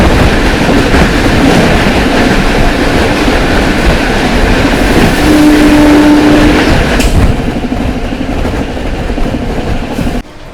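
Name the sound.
Howrah Rajdhani train passing the Patna Amrit Bharat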